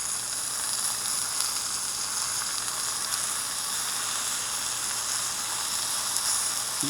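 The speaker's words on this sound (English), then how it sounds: "Ooh, hear that sizzle." Wild hog bacon sizzles and spits in a hot cast iron pan, a steady bright hiss with faint crackles that holds evenly throughout with no talking.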